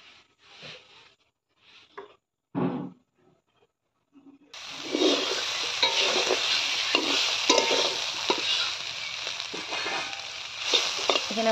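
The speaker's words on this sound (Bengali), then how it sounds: "এখানে বটবটি ভাজা করছি।" Flat beans fry in a pan, a steady loud sizzle with stirring scrapes that starts partway through, after a few seconds of brief talk and small clinks.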